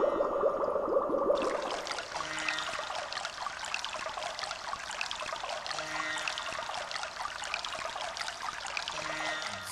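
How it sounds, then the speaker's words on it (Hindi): A forest waterfall pours continuously, a dense, steady rush of flowing water that stays even and fairly loud throughout, with a faint tonal call briefly audible at the start. "पानी का धोध बह रहा है।"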